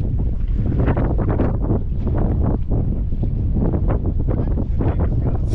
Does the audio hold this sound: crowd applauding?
no